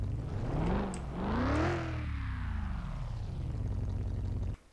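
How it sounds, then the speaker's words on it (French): Right after a hard start, the old Formula 1 car's replacement engine revs up and falls back in loud close blips, then settles to a steady droning idle before cutting off abruptly. "Elle a eu du mal, mais elle a démarré."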